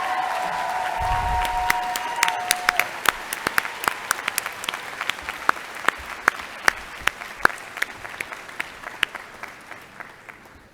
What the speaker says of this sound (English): A rousing round of applause for our BFA and BS in Art History theory candidates.